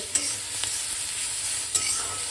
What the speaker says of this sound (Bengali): ভাজাটা একদম ফুল ফ্লেমে করছি